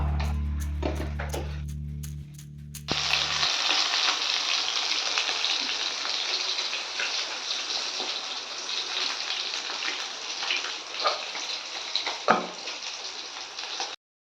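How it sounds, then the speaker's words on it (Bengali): Tilapia fish frying in hot oil, a steady dense sizzle that runs on without pause after a short burst of clatter at the start. "আমার আর কিছুটা মাছ আছে তো সেগুলো ভেজে নেবো একইভাবে"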